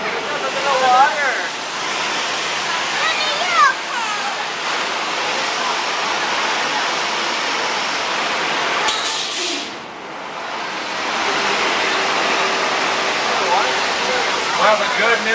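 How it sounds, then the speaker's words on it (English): Flood water rushes through the San Francisco subway set at Universal Studios, a loud, steady broadband roar that dips briefly before surging again, with a crowd talking faintly beneath it. "You guys know what that rumbling means. Lots and lots of water."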